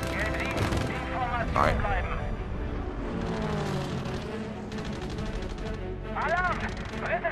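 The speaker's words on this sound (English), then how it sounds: "I'm trying to shoot at those planes" Gunfire aimed at planes in Battlefield V, with repeated loud shots and rattling bursts over rumbling engines and battle noise, while someone speaks briefly over the din.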